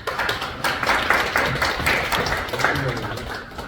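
Audience applause fills a church redevelopment and reconstruction seminar, a dense, steady wash of many hands clapping that carries on without a break from start to finish.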